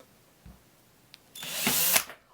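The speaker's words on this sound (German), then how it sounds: "Da brauchen wir einen Bohrer." A power drill bores a straight hole into a wooden log candle, a single loud, close whirring burst of just under a second that follows a couple of faint clicks.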